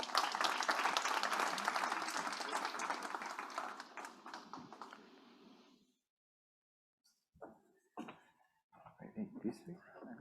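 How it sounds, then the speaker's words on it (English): Audience applauds a panel at a talk on Pakistani startups: dense, fairly loud clapping for about five seconds that tapers off into silence, followed by brief bits of talk and stray sounds. "please give them a round of applause"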